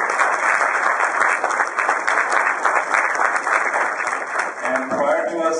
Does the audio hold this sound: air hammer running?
no